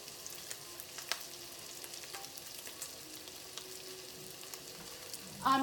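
Pepperoni frying in a pan until crispy, with a soft, steady sizzle and faint scattered crackles throughout, then a brief louder clatter at the very end.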